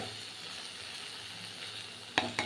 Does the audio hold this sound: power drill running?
no